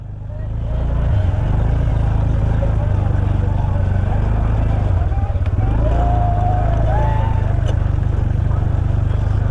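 A motorcycle rides across soft beach sand with its wheels slipping, a steady loud engine drone throughout, close to the microphone, with wind noise and someone talking over it.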